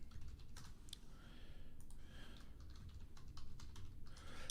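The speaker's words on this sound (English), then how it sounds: "Then you can listen to me typing instead" Typing on a computer keyboard, a steady run of quick, close key clicks with brief pauses between bursts, alone with no talk.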